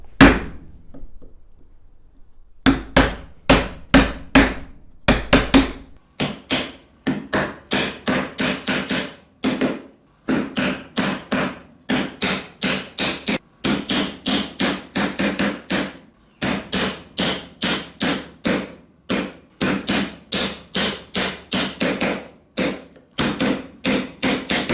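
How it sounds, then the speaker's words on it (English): A mallet strikes a chisel cutting a mortise in wood, delivering sharp, close hollow knocks in quick rhythmic bursts of several blows each, separated by short pauses, loud and with no talking. "cut a mortise which is a little smaller than the actual size"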